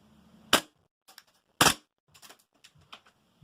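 A Walther PPQ VFC (Umarex) airsoft pistol fires with sharp, loud pops, one shot and then a double tap about a second later, followed by softer mechanical clicks and handling noise.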